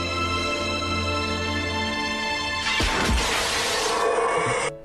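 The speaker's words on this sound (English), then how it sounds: "includes a scene of a floating window that later shatters" Floating window shattering as an effect on the Twilight Zone Tower of Terror ride at Disney's Hollywood Studios: a loud glass crash cuts in over steady eerie ride music, followed by a brief spill of debris before it stops abruptly.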